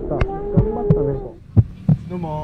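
A heartbeat sound effect thumps in slow paired beats, deep and close, under a humming tonal backdrop.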